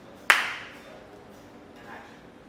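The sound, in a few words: hand clap for audio sync on a film set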